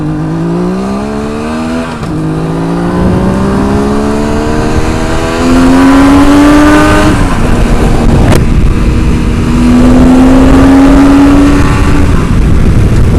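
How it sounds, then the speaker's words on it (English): A Suzuki GT550 motorcycle engine revs up through rising pitches, shifting gears and climbing again, loud and close with steady road roar underneath. "The little bike has some beans and it sure sounds wonderful."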